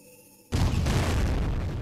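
Guided leg cannon firing in the game Blood Will Tell, a sudden loud booming blast after a brief quiet lead-in, followed by a sustained roaring rumble.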